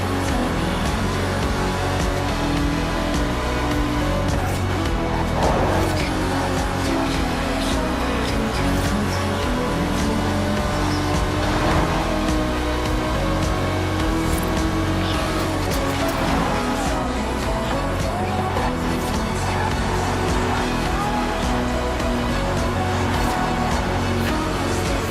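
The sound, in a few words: Aston Martin DB5 Vantage car engine in video game Forza Horizon 4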